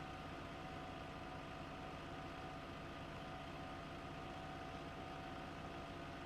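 Tractor engine in Farming Simulator 15 running at a steady, low, even hum with no rise or fall, faint and continuous throughout, no voices.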